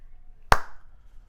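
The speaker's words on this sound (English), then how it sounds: "Clap again." One sharp hand clap, close and loud, with a short room decay in an otherwise quiet space.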